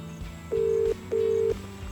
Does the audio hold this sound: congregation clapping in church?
no